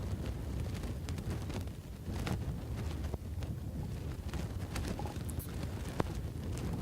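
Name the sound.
wind blowing across golf course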